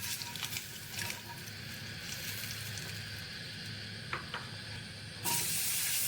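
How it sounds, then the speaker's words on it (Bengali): Two eggs dusted with turmeric frying in hot oil for a Bengali egg and potato curry, a steady close hiss and crackle that turns louder and brighter near the end. "এইভাবে সুন্দর করে ডিম দুটোকে ফ্রাই করে তুলে"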